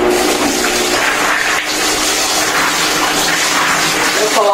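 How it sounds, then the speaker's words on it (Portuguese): Dried beans being washed and sorted under a running tap, with a loud, steady rush of water that continues without pause. "Agora eu vou estar lavando aqui e olhando o feijão,"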